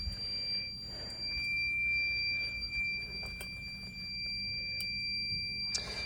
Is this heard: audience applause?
no